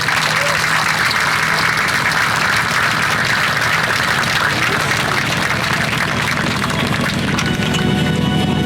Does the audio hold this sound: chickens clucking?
no